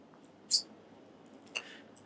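Two sharp, quiet clicks about a second apart, a computer mouse right-clicking during architectural design work, over a near-silent background.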